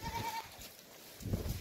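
A Jamunapari or Gulabi Hansa goat in heat bleats once near the end, a short, fairly close call after quiet farmyard background.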